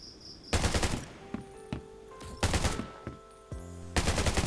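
Gunfire in the zombie survival game Undawn, inside a warehouse: three loud bursts of rapid automatic fire, each lasting about half a second, broken by quieter stretches of ringing game tones and clatter.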